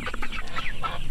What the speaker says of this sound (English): About 400 free-range chickens seek shade from the hot August sun.